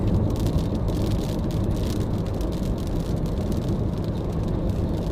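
Steady rain and road noise heard from inside a car driving in the wet in Australia, a dense continuous wash of tyre hiss and droplets on the body with no voices.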